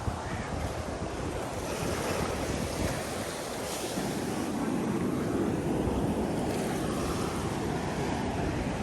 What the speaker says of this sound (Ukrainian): А у нас тут океан, піщаний пологий захід в океан.